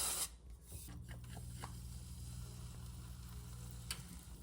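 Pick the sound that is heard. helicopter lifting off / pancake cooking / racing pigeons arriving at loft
pancake cooking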